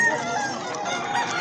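A young rooster (stag) crowing at a busy pet market, one short, hoarse call heard close and loud over a bustling background.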